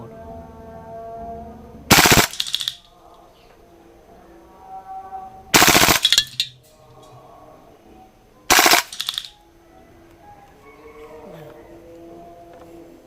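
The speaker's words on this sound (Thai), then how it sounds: "ยิงแบบออโต้" A Kriss Vector gas blowback airsoft gun fires three loud, sharp full-auto bursts, each roughly half a second long, spaced a few seconds apart. Faint background sounds and voices fill the gaps.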